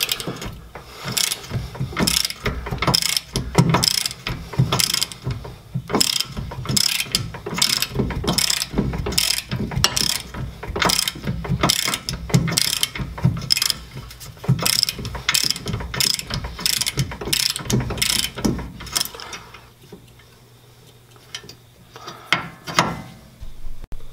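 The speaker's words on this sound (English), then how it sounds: "This is where the breaker bar can come in handy." Rear brake caliper bolts on a 2013-2015 Nissan Altima are worked loose with hand tools, giving rapid, loud ratcheting clicks in repeated bursts before a quieter pause near the end.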